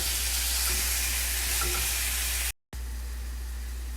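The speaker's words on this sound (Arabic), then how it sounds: "خلي البصل يمشقر على خفيف" Onions, with garlic, frying gently in a pan, a steady soft sizzle that fills the clip, broken by a brief dropout near the end before it resumes.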